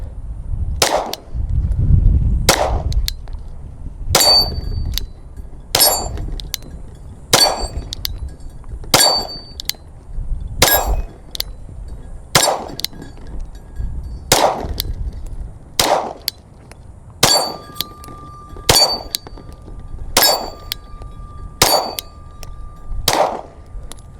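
PSA Compact Dagger 9mm pistol, a budget Glock-style handgun, fires about fifteen sharp, evenly spaced shots at steel and paper targets, with bright metallic rings from steel hits between the loud reports and no talking.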